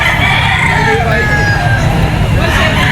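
A young gamefowl stag crowing amid a busy pet market, drawn-out crow lines over constant crowd babble, clucking and traffic, with people talking nearby.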